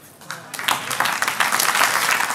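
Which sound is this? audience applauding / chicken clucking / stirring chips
audience applauding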